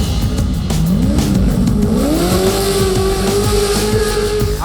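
Off-road race trucks compete in a Traxxas TORC Series round at Dodge City, their loud engines roaring and revving continuously, with rising pitch as they accelerate close by and no talking.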